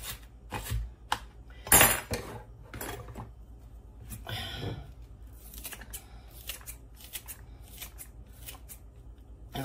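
Scissors snipping food in a home kitchen while making twice baked potatoes, a series of sharp, irregular close cuts and clicks, some louder than others, with faint handling noises between them.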